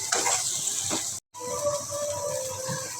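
Water poured into a kadai of spiced masala with turmeric, chili, garam masala and salt for a fish and tomato curry: close sizzling and splashing that stops in a brief silent gap, then a softer bubbling hiss.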